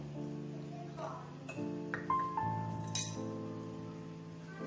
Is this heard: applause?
no